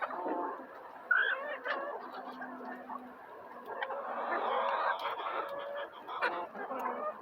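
Chickens clucking and native rooster calling in a busy yard, steady overlapping bird calls that stay loud throughout.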